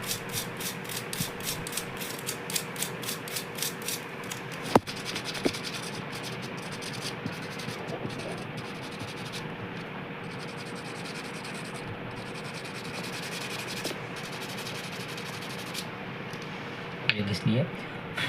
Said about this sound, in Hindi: ये पिन को घिस लेना। मैंने एक घिस लिया है और दूसरी को भी इस तरीके से ऐसे घिस लेना है